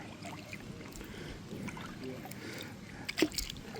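Kayak paddling on a lake on a hot day, soft steady water swishes and drips from the paddle close by, with a few light splashes toward the end and faint background wind.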